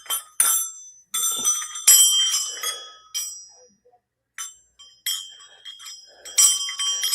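Brass bells strung on a strand jingle in repeated bright shaken bursts, each ringing briefly and decaying, separated by short pauses, close and fairly loud.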